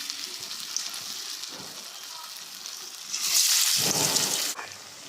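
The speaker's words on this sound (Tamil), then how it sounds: "இப்போ எண்ணெயில் சேர்த்துக்கோங்க. அடுப்பை கம்மியாக வச்சே பொரிங்க." Banana flower vadai deep fry in hot oil on a low flame, a steady bubbling sizzle that turns louder and harsher for a second or two, then settles.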